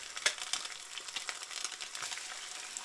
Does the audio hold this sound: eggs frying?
yes